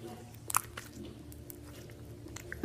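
Gum being chewed close to the mouth, with soft, intermittent wet clicks and squishes over a quiet background and a brief louder noise at the end.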